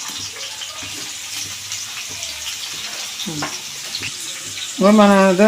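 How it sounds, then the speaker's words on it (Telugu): Bottle gourd pieces frying in hot oil for a masala curry, a steady close sizzle with brief stirring clatter, and a person speaking briefly over it near the end. "నూనెలో మరిగింది కదా ఈ ముక్కలు వేసుకొని వేపుకుందా"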